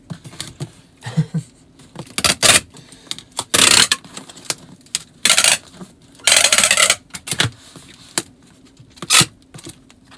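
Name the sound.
packing tape gun sealing a shipping package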